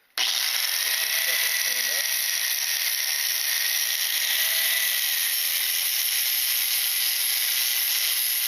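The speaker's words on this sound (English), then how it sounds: "I got the welder set up, so all I have to do is turn it on and make some adjustments" A welder fuses metal onto a Harbor Freight 30-inch bending brake, giving a steady, loud hiss and crackle that starts abruptly and runs unbroken for several seconds.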